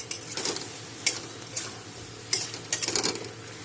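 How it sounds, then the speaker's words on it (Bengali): Fried rohu fish heads dropped into a pan of cooked spiced masala, giving scattered stirring scrapes and soft sizzling bursts, close and fairly quiet. "ভেজে রাখা মাছের মাথাগুলো দিয়ে দিলাম।"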